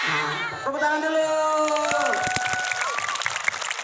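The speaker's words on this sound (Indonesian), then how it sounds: "Tepuk tangan dulu" Audience at an Islamic maulid sermon applauds, with voices and cheering up front, then a dense, steady patter of clapping through the rest of the clip.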